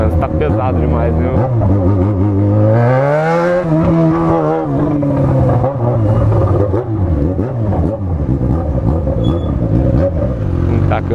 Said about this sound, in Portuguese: o trânsito tá pesado demais